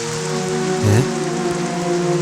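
Heavy rain pours down in a constant, dense hiss, with a brief low thump partway through and no voices over it.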